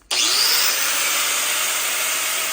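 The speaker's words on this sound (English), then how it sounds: "I took the cutoff wheel and I cut a groove in the top of the bolt" A cutoff wheel grinds a groove into the top of a metal bolt, a loud, sustained high-pitched screech that starts abruptly and holds steady, with no talking.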